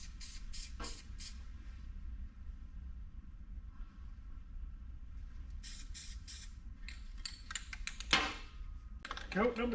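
Short hissing bursts of spray paint coating old door panels, several quick sprays near the start and a cluster later, faint and close against a low background hum.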